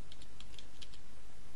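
Quick keystrokes tap on a computer keyboard during work in Excel, a short run of light, close clicks over a low background hum.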